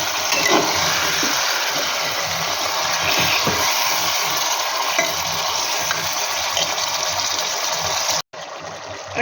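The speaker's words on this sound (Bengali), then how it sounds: "এবার একটুখানি নাড়াচাড়া করে নিই।" Mutton kosa stirred in a pan, a dense continuous sizzle with scraping spoon strokes, loud and close, cutting off abruptly near the end before resuming, no talking.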